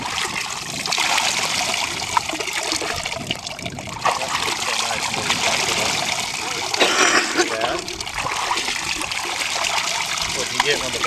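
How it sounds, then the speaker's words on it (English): Water sample poured into a sieve during suction sampling, a steady broadband splashing and trickling that runs throughout, with voices talking over it. "So then you dump it into the sieve and sieve it down."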